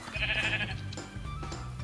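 Sheep bleat in the Minecraft video game, one close, drawn-out bleat followed by a shorter one, with faint game sounds behind.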